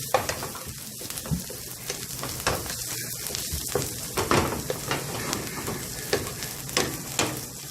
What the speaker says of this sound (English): You use the pan and deglaze it.